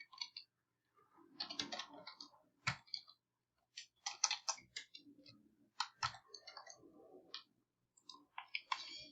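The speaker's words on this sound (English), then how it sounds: "Let's just type this function." Computer keyboard typing in short bursts of quick, close clicks separated by brief pauses, entering a math function for a graphing homework task.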